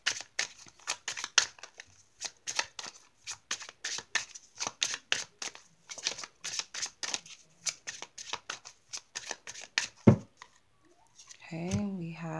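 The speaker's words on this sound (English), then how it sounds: "I'm just going to shuffle the cards to tune into the energies" Tarot cards being shuffled in quick riffling bursts, repeated rhythmically and close up, ending with a brief voice.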